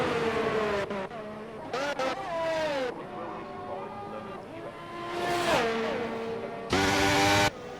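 A race car on a hot lap at Qatar in a sim racing league, engine notes rising and falling through repeated gear changes and revving, loud and close, with a commentator talking over it.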